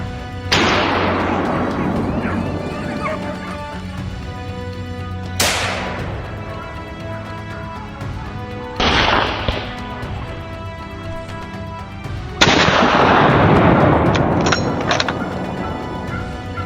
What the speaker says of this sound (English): Each accurate shot added a new trophy, steadily closing the gap between Henry and the fleeing herd.